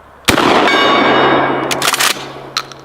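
A DP-12 shotgun blast aimed at a steel gong target, one loud sharp report followed by a long ringing metallic tone that decays slowly, with a few clanks and a second ring near the end.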